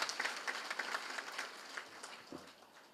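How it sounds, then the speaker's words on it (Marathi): Applause from a crowd at a cooperative-sector workers' gathering, a steady wash of many hands clapping at moderate distance, fading slightly toward the end. "आता एकदा टाळ्या वाजून द्या"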